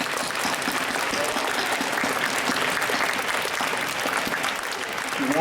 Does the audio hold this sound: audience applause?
yes